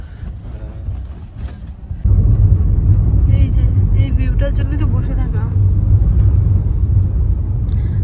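Slow traffic near Sevoke rumbles with a deep, steady engine drone that grows louder partway through, as cars crawl by close at hand while someone talks over it.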